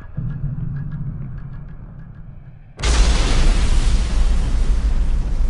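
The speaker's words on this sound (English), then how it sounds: "Then there's a shattering explosion." A low rumble gives way to a sudden loud blast that keeps roaring afterward, a heavy World War II explosion that does not fade.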